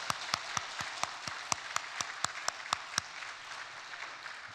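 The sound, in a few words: congregation applause of encouragement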